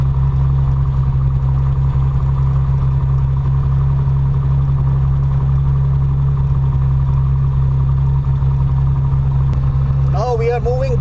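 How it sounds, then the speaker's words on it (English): A plane's engine runs in a steady, loud drone as the aircraft taxis and turns right on the ground, holding a constant tone with a brief squeal near the end. "The plane is turning right on the ground."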